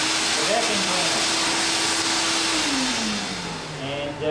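A vacuum cleaner powered through a solar backup inverter runs with a steady loud whine, its pitch sagging lower toward the end as if the motor winds down slightly.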